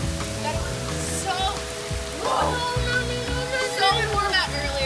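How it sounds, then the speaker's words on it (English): Heavy rain pours down outside in a steady hiss of drops on surfaces, continuous and fairly close, while people talk over it and other sounds drift in the background. "Look how hard it's raining."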